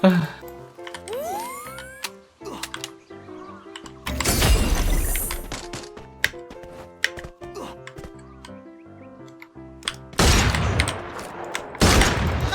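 Gunfire in the Free Fire video game: bursts of rapid shots in two dense stretches and scattered single cracks, mixed with game music tones and effects, fairly loud and close.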